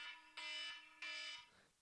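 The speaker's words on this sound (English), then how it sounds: "That fucking timer's loud as fuck, huh?" A loud electronic timer alarm blares in two long, sustained tonal bursts with a brief gap between them, fading out at the end; no one talks over it.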